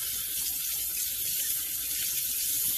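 Cold tap water runs over baby back ribs being rinsed in a kitchen sink, a steady close splashing hiss with no talking.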